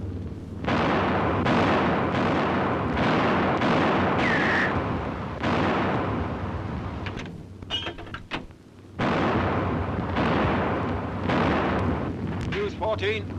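Anti-aircraft artillery guns fire in a British air raid precautions drill from 1939, loud booming blasts in rapid succession with heavy rumbling, interrupted by a short lull, while commands are shouted over them.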